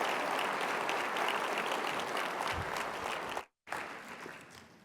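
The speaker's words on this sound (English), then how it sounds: "Let's give him a big round of applause" Sustained applause from a regional planning gathering's audience for Bruce, a steady dense clatter of many hands that cuts out briefly near the end and then resumes.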